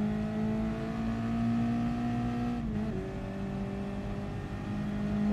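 Race car in the Gran Turismo Sport video game, engine holding a steady high drone that shifts pitch briefly midway, as if through a gear change, continuous and fairly close with no talk.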